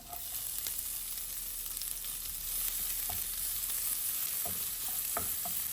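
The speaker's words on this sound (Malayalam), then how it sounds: "ഇനി ഇതിലേക്കിതാ പൊടിയായിട്ട് അരിഞ്ഞ് സവാളയും കൂടെ ചേർത്ത് കൊടുക്കാം" Finely chopped onion frying in a pan for chilli chicken, a steady close sizzle with occasional light stirring taps and scrapes, no voices.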